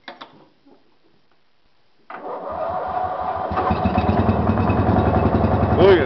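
After a short quiet gap with a few faint sounds, a lawn tractor engine cranks with the choke pulled, catches and settles into a loud, steady, rumbling idle close by.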